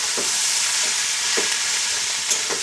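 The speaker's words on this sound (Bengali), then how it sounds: "এটা আর একটু ভাজা ভাজা হবে।" Cauliflower stems fry in a pan for a Bengali chorchori, a steady close sizzle broken by a few soft stirring scrapes.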